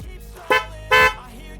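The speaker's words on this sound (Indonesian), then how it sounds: "suara klakson keongnya." A snail-type car horn fitted on a motorcycle gives two short, loud, blaring honks, the second slightly longer, in quick succession.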